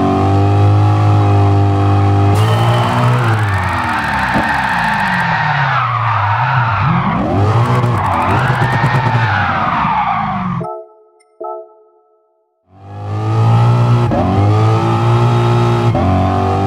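A car drifts in Gran Turismo Sport: loud engine revving and shifting over a long, wavering tire squeal as the slide holds, then a brief near-silent gap before the engine roars and skids again.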